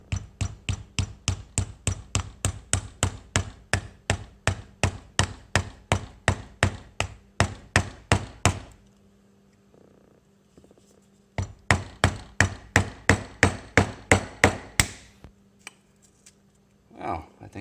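A small ball peen hammer strikes wood while a mallet is being made, in a fast, even series of sharp close blows, then a pause, then another quicker run of hits.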